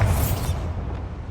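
Bombarda blasting spell going off in Hogwarts Legacy, a loud booming burst with a bright crackling rush that fades into a low rumbling tail, no voices.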